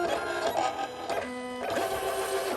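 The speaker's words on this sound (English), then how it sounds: "first I want to make sure that the machine is registering" Print-and-cut cutting machine reading registration marks on a loaded mat, with whirring motor movements, a steady tonal hum and shifting mechanical pitches, close and continuous with no talking.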